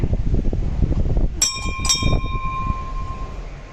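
A large metal bell at Mankeshwar Mahadev Hindu temple rings twice in quick succession, its bright tone lingering over a busy background rumble.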